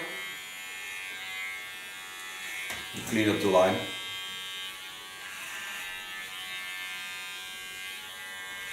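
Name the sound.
electric hair clipper buzzing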